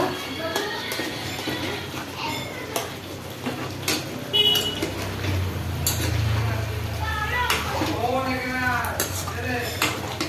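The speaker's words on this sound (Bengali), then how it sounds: "মাংসটা দিয়ে এবার আমি ভালো করে একটু নেড়ে চেড়ে নেব" Lemon-boiled chicken pieces stirred in a pot for chicken bhuna, with clinking and scraping of a spoon against metal in irregular strokes, a voice talking over parts of it.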